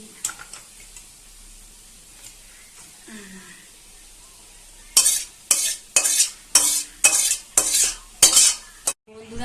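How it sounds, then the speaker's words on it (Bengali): Cooked chicken curry is poured and scraped from a pan into a bowl, a quiet start giving way to a rapid series of loud metallic scraping and clinking strokes. "আমি এবার একটা পাত্রে মাংসটা ঢেলে দিলাম।"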